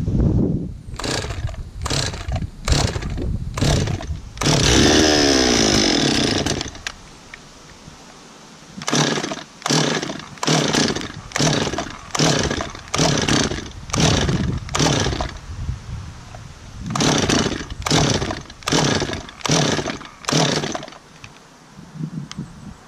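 A Stihl 026 chainsaw runs after carburetor work and a new air filter, its engine rising in repeated loud revving bursts with a brief steadier stretch early on, then dropping to idle between throttle blips; no one speaks.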